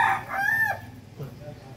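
A chicken gives a short clucking, crowing call up close, a bright sweep followed by a quieter tail over low background noise.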